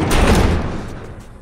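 A door slams with a heavy, loud thud and is barricaded in The Last of Us video game, leaving a rumbling crash that fades over a second or so.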